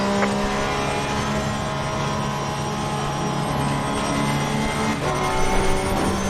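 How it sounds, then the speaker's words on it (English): A BMW race car in Assetto Corsa Competizione roars past, its engine note swelling steadily and loudly with other racing cars droning around it, no voices over the engines. "That BMW sounded nice when it went by."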